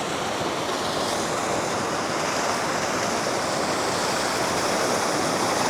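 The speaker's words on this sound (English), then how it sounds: "I thought I'd come up to the water wheel." Water rushes steadily past a water wheel, a dense, continuous roar of flowing water heard up close and unchanging throughout, with no voices.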